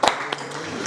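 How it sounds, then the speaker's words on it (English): Brief clapping from a small audience at a London DevOps meetup, a short burst of scattered hand claps lasting under a second, fairly close and moderately loud. "So they got a round of applause for coming for the first time."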